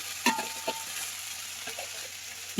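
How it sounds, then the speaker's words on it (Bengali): Onion stalks fry in a pan with a soft, steady sizzle, broken by a few sharp clinks and scrapes of stirring near the start and middle. "এটা হচ্ছে পেঁয়াজ কলি ভাজা"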